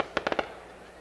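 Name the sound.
fireworks going off at baseball game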